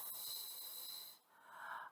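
A voice imitates a lawn sprinkler's steady whisper: a continuous breathy hiss held for about a second, then a short pause and a softer, duller hiss rising again, close and fairly quiet with no other sounds.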